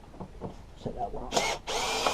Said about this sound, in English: A lot easier, quicker with these screwdrivers, electric screwdrivers.